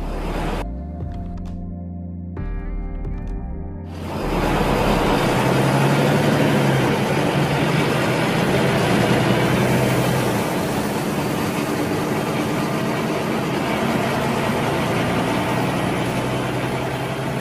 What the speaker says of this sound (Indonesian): aku menambahkan efek suara bus yang aku temukan di YouTube